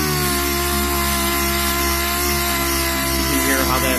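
A dual-action (DA) polisher runs continuously at a moderate speed, a loud, steady motor whine and hum held throughout with no breaks.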